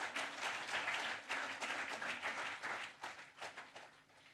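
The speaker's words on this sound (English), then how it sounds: "may we have a warm round of applause for all the panelists" An audience at a panel discussion event claps for the panelists, a warm round of rapid, overlapping applause that gradually thins toward the end.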